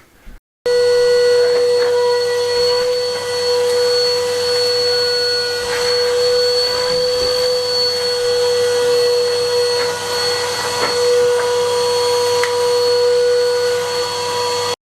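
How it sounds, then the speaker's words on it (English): A Henry vacuum cleaner switches on and runs continuously, hoovering out the inside of an old 150-year-old brick bread oven, its loud steady whine holding with small shifts in pitch as the nozzle moves and scrapes. "I might get Henry out and give him a bit of a hoover."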